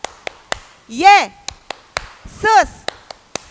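Children in a church Sunday school clap along to a clap song, a sharp, steady series of handclaps spaced evenly and close by, broken twice by sung or chanted voices.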